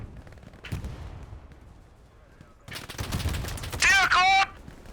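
In a World War II combat video game, MG42 machine guns open up in rapid bursts, loud crackling volleys clustered late, with shouted voices and other game sounds around them.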